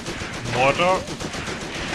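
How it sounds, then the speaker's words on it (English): Heavy machine gun fire rattles in a short rapid burst in the Graviteam Tactics war game, heard amid battlefield noise with a voice speaking over it. "Heavy machine gun."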